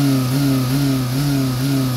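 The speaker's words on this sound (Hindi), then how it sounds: "अब मैं दोबारा गाड़ी को एक्सलेट करूंगा" Car engine with its camshaft position sensor unplugged, revving steadily with a low, wavering drone and uneven pitch swells; alone, close and continuous, without speech.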